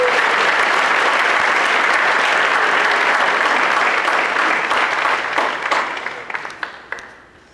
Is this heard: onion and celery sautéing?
no